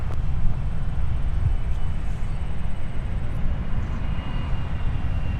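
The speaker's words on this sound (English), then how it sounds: "So this aircraft, Alex, should taxi over to Signature, is my guess." An aircraft taxis at Minneapolis–Saint Paul airport, heard as a steady, low, rumbling engine drone at a moderate distance, constant throughout with no voices.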